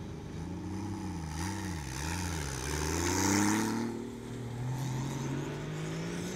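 A 600 hp RB25-powered Nissan S14 drift car launches off the line at a drift competition, its engine revving in wavering bursts before climbing into a sustained, loud rising pull, with a steady roar throughout.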